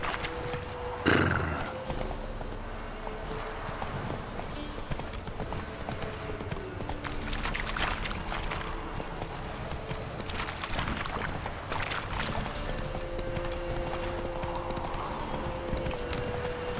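Hooves of the horse Roach clip-clop in a steady trotting rhythm in The Witcher 3, with a brief louder whinny near the start and an ambient game background underneath.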